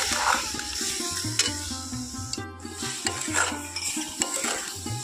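Mango pickle pieces being stirred through sugar syrup in a wok over low heat, with repeated scraping strokes and a faint bubbling sizzle, close and fairly quiet, under a steady low hum from the background.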